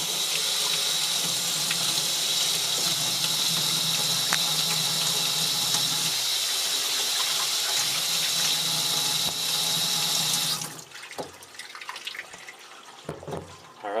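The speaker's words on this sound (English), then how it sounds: "Give those a rinse real quick." Dirty Nike Air Max sneakers are rinsed under a running tap, a steady, hissing stream of water splashing into a sink for about ten seconds. The water then cuts off, leaving a few soft drips and clunks.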